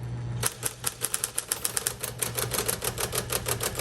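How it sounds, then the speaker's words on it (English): A 1958 Smith Corona electric typewriter clatters with rapid, even keystrokes, crisp close-up strikes over a steady motor hum, fairly quiet overall. "I was trying to type and it stopped typing"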